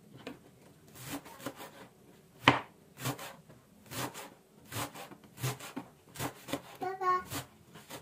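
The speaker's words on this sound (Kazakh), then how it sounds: "Енді жусайды да осылай майдалап тураймыз." Wild garlic being chopped with a knife on a board, sharp irregular thuds and taps spaced roughly every half second, close and fairly quiet, with a brief rustle and faint talk near the end.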